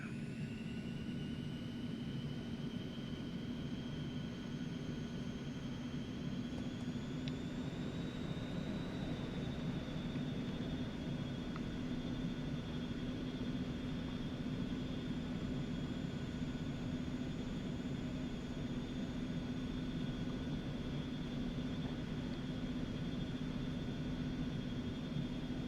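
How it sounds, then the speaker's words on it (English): An Eclipse 550 jet in X-Plane 11 rolls for takeoff on runway 27, giving a steady engine roar with a high turbine whine that rises in pitch, no talking over it. "taking off runway 27 for a straight out departure"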